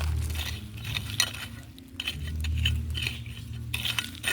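Potash fertilizer being stirred into the soil around a grape vine, heard as close scraping, gritty rustles and light clinks in an uneven rhythm over a low background hum.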